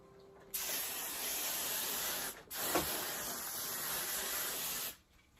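Two close, loud bursts of hair spray hiss from an aerosol can, about two seconds each, separated by a brief pause, in an otherwise quiet room.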